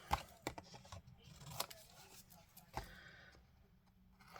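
Scissors snip through paper slips in a handful of sharp, separate cuts, quiet and close, with faint rustling between the snips.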